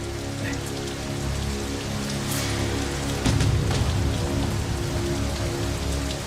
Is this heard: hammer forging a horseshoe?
no